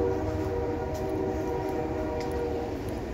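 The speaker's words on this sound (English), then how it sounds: "That train is loud, isn't it?" A train rumbles past close by along a creek hiking trail, a loud continuous low roar with a steady tonal hum running through it.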